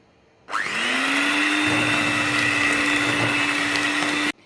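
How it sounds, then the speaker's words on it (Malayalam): An electric hand mixer beats cookie dough at medium-high speed, switching on abruptly into a steady loud whirring motor hum that holds evenly for about four seconds before cutting off, with no talking. "ഒരു മീഡിയം ഹൈ സ്പീഡിൽ നമുക്ക് ബീറ്റ് ചെയ്യണം"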